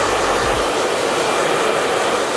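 A hair dryer blows during a men's classic scissor haircut, a close, steady, loud rushing whoosh that runs evenly throughout with no talk.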